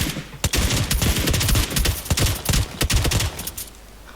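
Rapid bursts of close automatic gunfire from PUBG Lite, dense and loud volleys cracking for a few seconds, then trailing off near the end.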